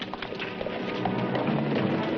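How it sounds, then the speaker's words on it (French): Several horses gallop off together with riders, a dense rumbling clatter of hooves that builds steadily, fairly loud and continuous. "Manuel, Pedro, dépêchez-vous. À cheval."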